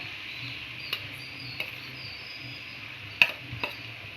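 A spoon stirring grated coconut into a carrot and cabbage stir-fry in a pan gives soft scraping under a faint steady sizzle, with a few sharp clicks of the utensil against the pan.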